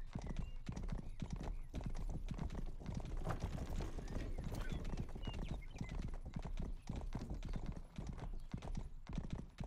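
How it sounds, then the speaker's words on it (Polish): Fast horse galloping in the video game Rustler: rapid, continuous clip-clop hoofbeats close and prominent for about ten seconds, a dense drumming rhythm with faint background noise. "To jest bardzo szybki koń."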